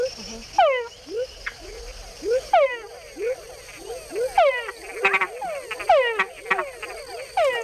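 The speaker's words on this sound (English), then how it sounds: "Male frogs make the added chuck sound to attract females." Male túngara frogs call repeatedly in Panama, each a descending whine often followed by short chuck notes, loud and close, with insects chirping faintly behind.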